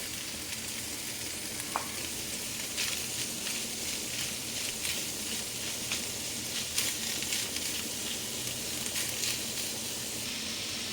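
Ground meat with garlic sautéing in a pan makes a continuous moderate sizzle, with light stirring clicks and scrapes scattered over it.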